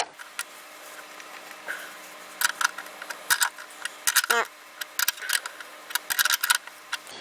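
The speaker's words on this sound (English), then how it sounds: "And get your 10mm wrench. And try to tighten it up." A 10mm wrench tightens a fitting during a Saikou Michi catch can install, giving close, quick metallic ratcheting ticks in short bursts with brief pauses between.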